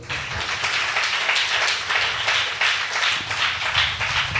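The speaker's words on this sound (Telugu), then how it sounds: "ఒక్కసారి గట్టిగా చప్పట్లు కొడదాం." A church congregation claps loudly and steadily in a dense, continuous wash of hand claps filling the room, with no voices on top.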